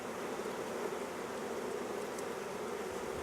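A hive of honey bees hums with a steady, dense buzz close by, unbroken and even in level from start to end, with no voices over it.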